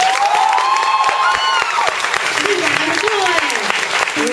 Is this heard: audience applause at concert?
yes